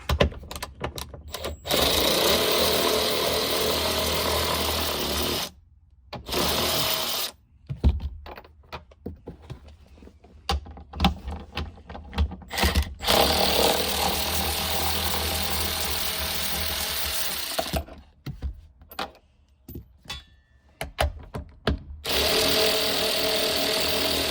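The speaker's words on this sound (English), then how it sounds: "So now I'm just gonna swap over and use my my ratchet." Ratchet wrench turning on a 2021 Jeep Wrangler, giving rapid clicking bursts in several runs separated by short pauses, close and fairly loud.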